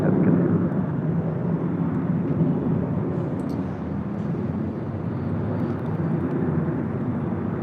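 A Boeing 747 passing overhead on approach to land on runway 25 left at LAX, giving a broad, loud engine rumble that holds steady and eases slightly, with no voices.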